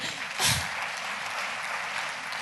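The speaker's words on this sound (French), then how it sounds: "Merci Céline, on l'applaudit aussi quand même" An audience applauds in a lecture amphitheatre at a Lyon conference day on dys learning disorders: a steady, even wash of clapping that lasts throughout, with a slightly stronger swell near the start.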